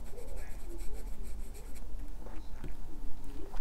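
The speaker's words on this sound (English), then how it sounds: "the writing experience with this nib is very, very smooth" A Sailor Lecoule Morion fountain pen with a smooth nib writes on paper, giving soft, close scratching strokes in an irregular rhythm that are faint but steady throughout, with no talking.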